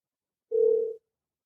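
A single steady telephone tone sounds for about half a second in an otherwise silent call, clean and close.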